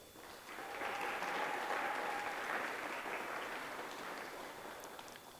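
An audience at a 2022 panel on traditional ecological knowledge and climate adaptation breaks into applause for the panelists. The clapping swells within the first second, holds steady, then slowly fades, heard from across a hall.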